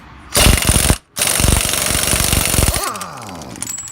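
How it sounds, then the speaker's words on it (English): Impact wrench removing the front axle nut on a 1999 Silverado 4x4, two loud close hammering bursts separated by a short pause, the second longer and ending with the tool spinning down. "Pull the axle nut off,"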